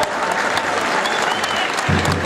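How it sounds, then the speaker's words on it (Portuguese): Crowd applause at a family tribute event, steady dense clapping from many hands sustained throughout, filling the space without a break. "Vou pedir uma salva de palmas para o Zico"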